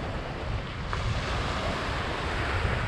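Continuous wash of sea waves on the shore at Haifa, Israel, mixed with heavy wind buffeting the microphone, steady and fairly loud with no voices.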